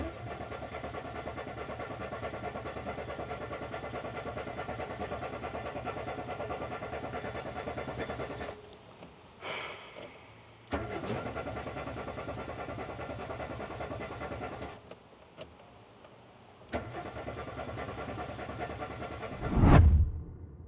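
Renault Twingo engine cranking and running through a starting test, a steady mechanical drone for several seconds that cuts out twice and resumes, ending in a loud burst; no talking.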